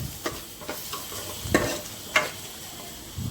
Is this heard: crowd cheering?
no